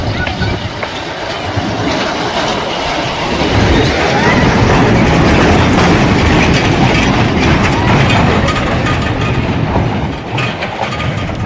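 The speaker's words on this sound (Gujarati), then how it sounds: "જો આવે છે આવે બાબા ટ્રેન. ચેન્નાઈ એક્સપ્રેસ." A small amusement-park ride train called the Chennai Express rumbles past close by with steady clickety-clack wheel noise on a roughly two-kilometre track, loud and continuous, while people talk over it.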